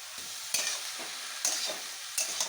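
Salted eggplant goes into a frying pan, with a steady low sizzle broken by three sharper bursts of stirring and scraping, close and clear.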